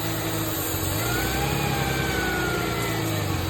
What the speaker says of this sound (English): We'll keep them running on some engine